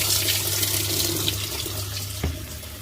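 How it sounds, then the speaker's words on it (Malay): Water runs fast from a Samsung washing machine in a steady splashing gush, with a faint knock near the end and no voices. "Air keluar laju."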